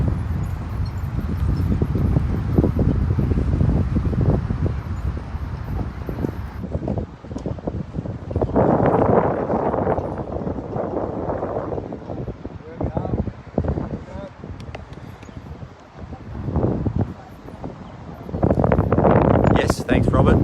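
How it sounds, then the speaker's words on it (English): Strong gusts buffet the microphone outdoors at a bowls green during a mixed fours final, heavy low rumbling bursts rising and falling, with a voice talking over the wind. "Wow, that's strong, that breeze now."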